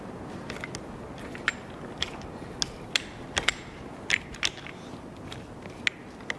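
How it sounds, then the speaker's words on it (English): Small metallic clicks and ticks come from tightening 4mm Allen screws into an Ibexx Polaris throttle block, sounding faint, close and irregular over low background noise with no talk. "squeeze your block together and install your 4mm Allen screws"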